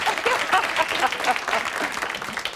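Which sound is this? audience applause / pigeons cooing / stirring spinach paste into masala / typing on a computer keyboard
audience applause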